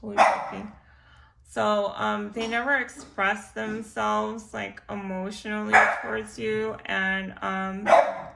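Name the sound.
dog barking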